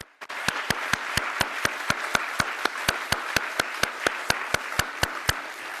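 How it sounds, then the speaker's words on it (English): Applause for the speakers and panelists at the end of a scientific conference session, with a dense, steady wash of clapping carrying on for several seconds. Sharp, regularly spaced claps stand out clearly above the rest of the crowd. "let's give another round of applause for all of our speakers and panelist members today"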